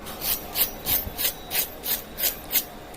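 Crisp flaky puff pastry aloo patties being handled, their layers giving a dry rhythmic crackling and rasping, about eight regular scrapes close up with no talk.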